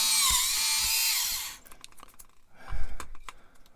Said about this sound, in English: But I just want to get the holes drilled.